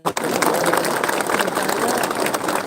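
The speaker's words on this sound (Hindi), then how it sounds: "सब इनको भी एक बड़ा ताली दीजिए" Rally crowd applauding for community heads and minority cell members at a political gathering in Sabroom, Tripura, a dense sustained wash of clapping that starts abruptly and holds steady throughout, with no talk over it.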